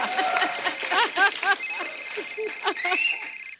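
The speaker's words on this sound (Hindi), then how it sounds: "ये मेरा फोन बजा।" A phone rings with a bright, repeating electronic melody, moderately loud, while chirpy voices or tones flutter alongside it before it cuts off.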